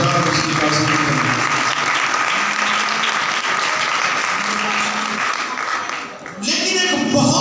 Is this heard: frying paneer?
no